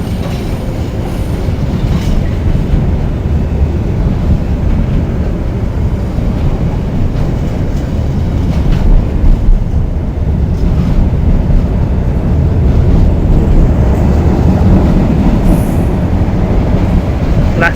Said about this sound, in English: We'll just concentrate on this freight train now. As it passes through